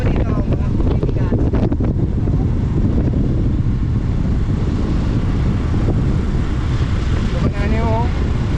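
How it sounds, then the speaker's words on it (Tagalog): Strong wind buffets the microphone near a lighthouse, a loud continuous low roar with gusts throughout, and a voice speaks briefly under it. "Ang hangin-hangin po dito, mga kaibigan."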